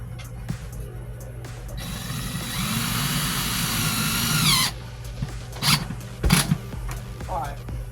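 A power drill drives self-tapping screws into a cabin light fixture aboard a Catalina C 30 sailboat, giving one sustained whirring run close by that stops abruptly, followed by short clicks and knocks.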